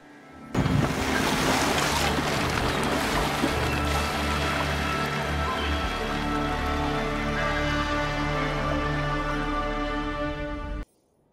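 A sailing ship cuts through the sea off Ireland in the video game Wrath of the Druids, with continuous loud waves, rushing water and spray over a low rumbling hull. The sound holds steady for ten seconds, then stops abruptly.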